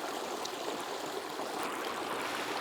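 Water runs steadily out of an ITEHIL portable water filtration system, a continuous close trickling stream with no break and no voices.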